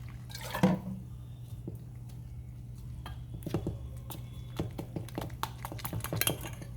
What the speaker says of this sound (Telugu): ఇప్పుడు వాటర్ వేసుకొని కలుపుకోవాలి.